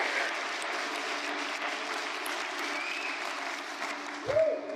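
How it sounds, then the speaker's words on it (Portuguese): A church congregation applauds in sustained, dense clapping at moderate distance. The clapping continues evenly with a brief louder burst near the end. "E quem ama a Deus, dê um forte aplauso ao Senhor."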